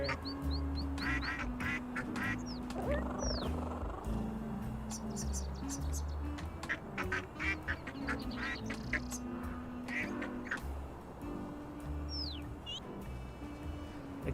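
Ducks quack over and over in short, overlapping bursts, several birds calling at once against a noisy outdoor background.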